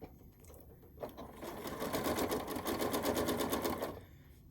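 A wide-throat sewing machine stitching quilt strips, a fast steady whirring hum that starts up after a second, runs for about three seconds and then stops.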